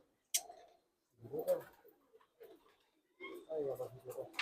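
Pigeons, including a carrier pigeon, coo quietly in a loft in short low bursts, interleaved with someone talking nearby.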